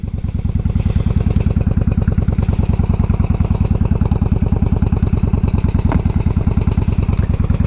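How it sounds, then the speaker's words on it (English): A 1995 Honda Shadow 1100 motorcycle idles steadily up close, its engine thumping in a fast even pulse with a metallic rattle riding on top, loud and alone. "I gotta find out what that rattling noise is"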